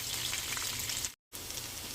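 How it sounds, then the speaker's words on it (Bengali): Steady, close sizzling of giant freshwater prawns lightly frying in hot oil, a continuous crackling hiss broken by a brief moment of silence. "আমি হালকাভাবে ভেজে নিচ্ছি।"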